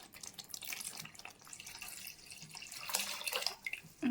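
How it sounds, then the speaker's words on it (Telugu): Boiled water pours steadily into a pot of trotter curry, a close, splashing liquid stream that swells and dips over a few seconds, with no talking. "ఆల్రెడీ నేను ఉడకబెట్టుకున్న వాటర్ ఉన్నాయి కదండి, చూడండి అవి నేను పోస్తున్నాను"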